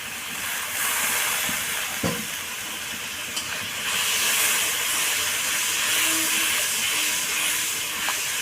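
Masala with Kashmiri chilli powder fries in a pan, giving a steady close sizzle and hiss with a few brief sharp pops and crackles.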